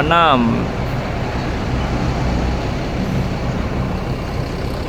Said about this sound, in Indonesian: Masih dari arah Kota Bukit Tinggi masuk satu unit bus Epastar tujuan Kota Palembang.